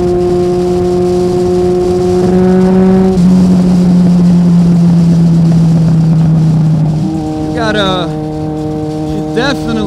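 A 1980 superbike motorcycle accelerates hard, its engine roaring loud and close with a steadily rising pitch, a brief gear change, and further climbing revs, heard from the rider's position with strong wind rush.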